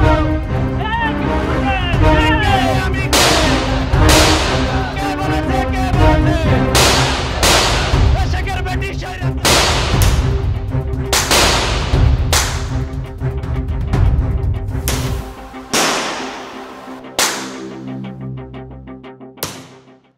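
Bursts of gunfire during street unrest in the July 2024 mass uprising in Bangladesh, repeated sharp cracks at irregular intervals over a steady rumble, with talk in between.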